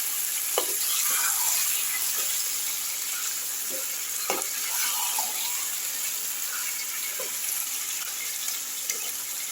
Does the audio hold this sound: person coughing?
no